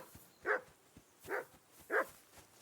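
A dog barks in Kingdom Come Deliverance II, three loud, separate barks spaced about a second apart over a quiet background.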